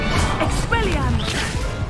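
An Expelliarmus spell strikes during a wizard duel in a Hogwarts video game, landing as a loud smashing impact with a whoosh, while a voice is heard over it.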